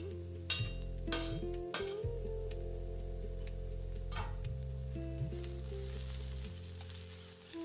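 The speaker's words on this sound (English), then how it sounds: "Mix it well." Methi curry with freshly grated coconut stirred in a pan on a gas stove: steady frying sizzle throughout, with a few metallic clinks of the spoon against the pan.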